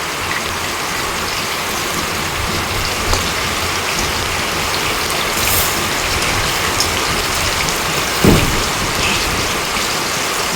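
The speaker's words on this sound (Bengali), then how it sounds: "প্রচুর বৃষ্টি পড়ছে প্রচুর" Heavy rain pours steadily onto surfaces outside a village home, a loud dense unbroken hiss lasting the whole time, with a single brief louder splash near the end and no voices.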